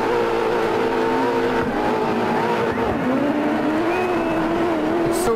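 Front-wheel-drive rally car in DiRT 4 droning steadily up close, its engine pitch rising and falling through turns with a faint tire squeal near the end.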